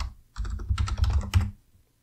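Rapid keystrokes on a computer keyboard while renaming an SSIS package, a close burst of several quick clicks, a short pause, then another run of taps, heard alone.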